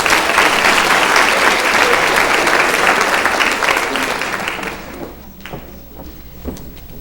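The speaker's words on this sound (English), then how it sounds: "how about a round of applause for Ms. Sue Takesian" An audience at a high school scholarship awards night claps loudly and steadily, then the applause tapers off and fades into a quieter room with a few thuds.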